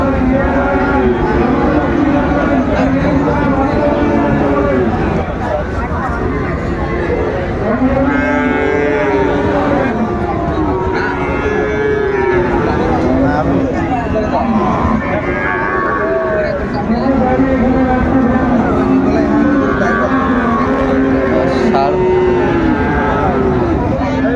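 Friesian and crossbred bull calves moo repeatedly and loudly at the Raniganj cattle market, their calls overlapping with the steady chatter of traders and buyers talking nearby.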